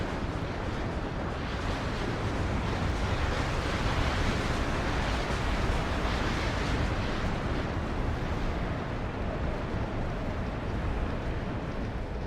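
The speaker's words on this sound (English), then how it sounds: "And there's the Orbital Strike" A massive orbital strike explosion from the real-time strategy game WARNO, modded Baltona map, levelling a small town: a loud, sustained roaring rumble of blast and debris that holds steady for the full duration without talk.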